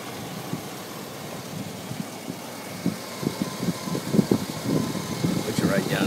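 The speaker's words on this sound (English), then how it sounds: "Here's your motor running. You can hear it." A 2003 GMC Yukon Denali 4x4 engine idles with a steady low rumble, someone talking close by over it.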